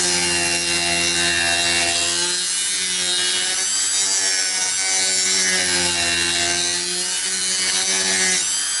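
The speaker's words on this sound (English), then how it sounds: "take the Dremel to this top of this nut and just take it down a bit" A Dremel rotary tool grinds down the top of a guitar nut on a Tanglewood acoustic during setup, a loud, continuous high-pitched whine with rasping, buzzing friction that holds steady throughout.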